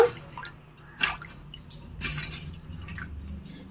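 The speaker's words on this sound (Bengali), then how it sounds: "গোটা গাজরটাকে ধুয়ে নেব" A whole carrot is rinsed under water, giving a few close, soft drips and splashes spaced about a second apart.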